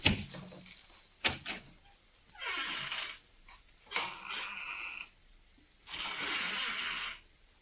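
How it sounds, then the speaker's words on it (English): An office door thumps shut and later creaks open again, sharp knocks followed by longer scraping and swishing stretches, close and fairly quiet in an old radio drama. "I'll step outside the office and close the door and then open it again."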